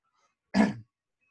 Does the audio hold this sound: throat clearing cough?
yes